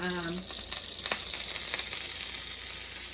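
Pastured pork lard hitting a preheated pan over a high flame, giving a loud, continuous close-up sizzle with a brief clink of utensil early on.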